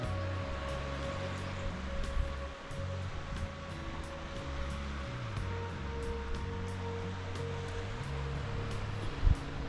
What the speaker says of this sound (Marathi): आज हवा कमी असल्यामुळे समुद्र पूर्णपणे शांत आहे